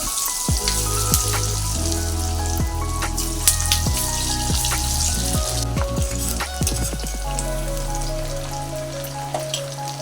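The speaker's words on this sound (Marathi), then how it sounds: "छान असं गोल्डन ब्राऊन तळायचे आहेत किंवा शॅलो फ्राय करायचे आहेत." Kothimbir vadi, coriander fritters, shallow frying in a pan of oil, giving a steady close sizzle with scattered pops and crackles throughout, alongside tonal background sounds.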